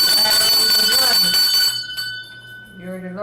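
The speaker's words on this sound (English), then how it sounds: "Ring the bell." A bell rings with a sustained, bright tone during a trivia-style giveaway, heard under loud talk from several people.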